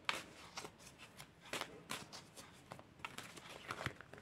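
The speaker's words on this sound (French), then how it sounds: "Je vais tout de suite battre les cartes." Tarot cards are shuffled by hand in a quiet room, a series of quick soft riffling and slapping bursts, close and fairly faint, with no talking.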